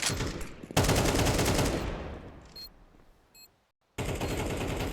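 PT-50 gunfire in Counter-Strike during an ESL Impact League match: a loud, dense burst of shots that rings out and fades to near silence, then a fresh burst of firing begins.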